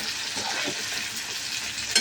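Tomato, garlic and onion sauté in a pan with a constant close sizzle and soft stirring, and a short scrape or clink at the end; nobody talks.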